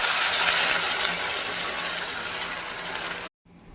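Ground peanut chutney pours into a frying pan as a steady, close, splashy liquid gush that cuts off abruptly near the end.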